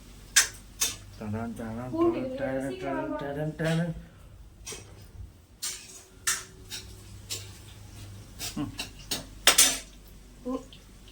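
A kitchen knife is picked up and handled among dishes and utensils in a home kitchen where tomatoes are being cut, giving several sharp metallic clinks and clatters near and fairly loud, with someone talking over the first few seconds.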